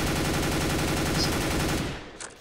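An M4 rifle in the video game Counter-Strike fires a rapid, steady full-auto burst of close, loud gunshots for about two seconds, then stops and leaves a brief fading tail.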